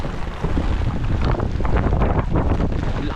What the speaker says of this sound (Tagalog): Napakalakas na ng hangin dito